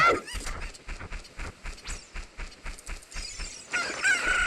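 Chickens in the Zelda Master Quest 3D video game cluck and squawk in a rapid, rhythmic series of sharp calls, close and fairly loud, with one louder flurry of squawking near the end.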